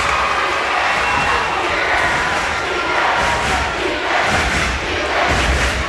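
Loud, continuous crowd roar at a high school basketball game, with cheering and shouting rising and swelling throughout as the home crowd makes noise.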